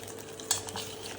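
A spoon stirs food in a pan in a home kitchen, giving a soft close scrape with one sharp metallic clink partway through. Low steady background hum, and no one talks.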